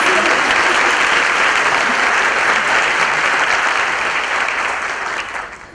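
Loud, sustained applause from a large audience at a UNICEF Mexico annual report launch event, steady and full throughout before tapering off slightly at the end.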